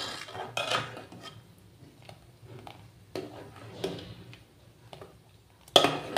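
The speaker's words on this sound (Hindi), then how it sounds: "अभी भुना हुआ जीरा जो है इसको ऐसे डाल के ऐसे चला देंगे, मिक्स कर देंगे" Roasted cumin is stirred into kadhi in a pot: a spoon scrapes and clinks against the metal in irregular strokes, mostly soft, with a louder clatter near the end.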